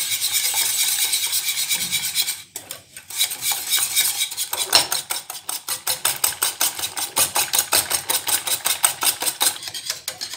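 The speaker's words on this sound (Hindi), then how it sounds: "हमने इसको इतना बीट करना है कि बिल्कुल इसमें लम्स ना रहे और बिल्कुल स्मूथ सा ये बैटर तैयार हो जाए।" Omelet muffin batter of flour and eggs beaten by hand in a bowl until smooth, a fast steady clatter of utensil against the bowl that pauses briefly, then resumes in quick rhythmic strokes, close and fairly loud with no talk.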